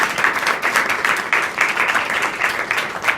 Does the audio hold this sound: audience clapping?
yes